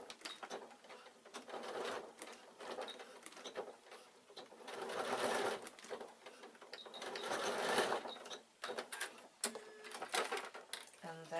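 A sewing machine stitches a strap onto a leather-look bag in bursts of rapid mechanical whirring that stop and start, with a soft voice between runs.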